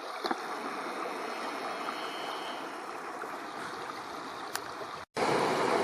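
The Pipestone River in Banff's Front Ranges roars steadily and close by, a constant broadband wash that cuts off abruptly near the end before resuming loudly.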